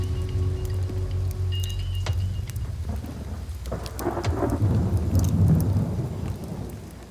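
Thunderstorm on a remote island, with heavy rain falling steadily and loud thunder rumbling nearby, the low roar swelling toward the end.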